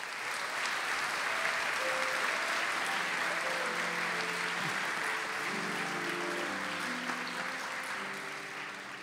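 An awards ceremony audience gives a long, even round of applause, many hands clapping in a dense wash that stays steady for several seconds before easing slightly at the end.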